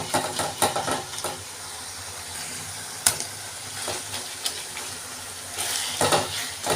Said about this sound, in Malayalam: ഇതിലോട്ട് ഇഞ്ചി വെളുത്തുള്ളി പേസ്റ്റ് ഇട്ട് കൊടുക്കാം.